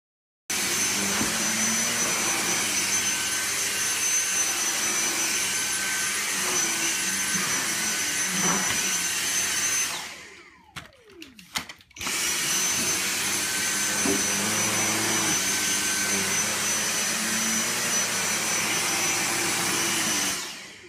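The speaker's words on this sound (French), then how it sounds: "Voici maintenant un petit test d'utilisation afin que vous puissiez juger par vous-même de l'efficacité de ce Dyson DC62." A Dyson DC62 Animal Pro cordless vacuum cleaner runs loud and close with a steady high whine, cuts out for about two seconds with a few clicks, then starts up again and keeps running.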